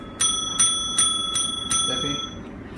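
A bicycle bell rings five times in an even rhythm, bright and close, each ring quickly fading.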